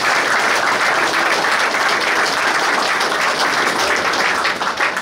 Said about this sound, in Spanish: para que le pido un fuerte aplauso